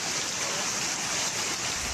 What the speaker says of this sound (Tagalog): Sinabayan pa yan ng malakas na ulan, kaya malakas ang agos ng tubig.